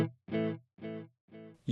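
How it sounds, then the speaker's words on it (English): Clean electric guitar with the delay turned up, a note echoing in regular repeats about half a second apart that gradually soften before a new attack begins. "the delay is turned up for dramatic effect"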